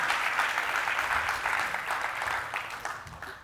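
An audience at a talk about a vision for Baja applauds, steady dense clapping that fades slightly toward the end.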